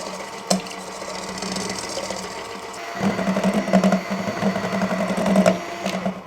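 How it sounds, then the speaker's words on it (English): An electric hand mixer whips a keto dessert mixture in a bowl, a steady close motor whine that runs without a break and grows louder and busier partway through. "we're gonna take our hand mixer and stand here until it has doubled in size"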